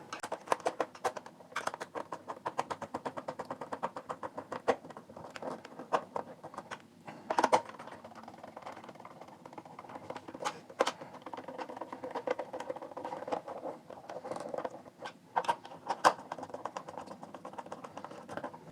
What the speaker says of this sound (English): Now let's tighten it.